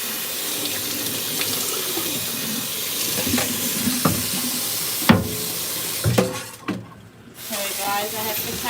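Water running from a kitchen tap while vegetables are washed for South American oxtail soup, a steady close gush with clunks and splashes as items are handled, and a voice briefly heard near the end.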